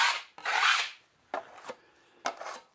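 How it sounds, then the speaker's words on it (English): A putty knife spreads joint compound across a wall patch in several rough scraping strokes: one long smear, then shorter separate passes, close and fairly quiet with no voices. "apply an additional coat using a wider putty knife"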